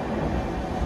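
Steady low rumble and rattle inside a train coach as it pulls into Yoganagari Rishikesh station, a continuous broadband drone with no voices.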